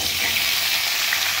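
Oil frying in a pan with a little fresh oil added, a loud, dense, continuous sizzle close by, with no talk.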